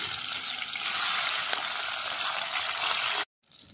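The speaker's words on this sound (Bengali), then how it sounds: "আবার 2 পিস মাথা দিয়ে ভেজে নিচ্ছি।" Steady, dense sizzle of rohu fish heads frying in hot oil, loud and close, running without pause before cutting off abruptly near the end.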